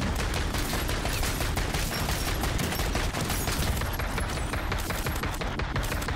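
A JAK Gunslinger fitted with Mag of Holding fires nonstop in Modern Warfare 3 Zombies, a dense, rapid rattle of shots running unbroken through the whole stretch.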